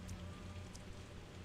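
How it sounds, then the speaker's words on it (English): Steady rain falling in the video game Pathologic 2, a dense continuous hiss with a low droning hum underneath, no voices. "It's raining like crazy."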